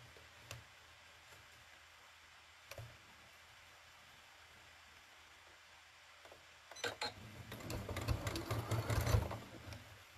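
A sewing machine runs slowly while stitching a woven basket: a couple of faint clicks over quiet room tone, then a sustained close burst of stitching near the end.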